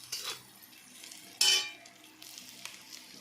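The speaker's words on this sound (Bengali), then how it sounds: "অল্প আদাগুলো ভাজা হওয়ার পর আমি দিয়ে দিলাম আবার কাঁচা লঙ্কা।" Ginger and green chilies fry in a hot pan, a soft sizzle with scraping stirs and one louder burst of hiss when more chili goes in midway, close and without talk.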